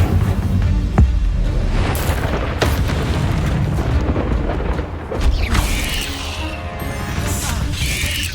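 Fire spell blasts in the Hogwarts Legacy video game, with repeated booming bursts and crashing impacts layered over dense, continuous combat noise at loud volume.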